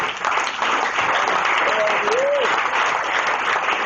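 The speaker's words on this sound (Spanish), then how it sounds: "Dale un aplauso fuerte." A church congregation breaks into loud, sustained applause during a worship service, a dense wash of clapping that holds steady throughout with a brief voice rising above it.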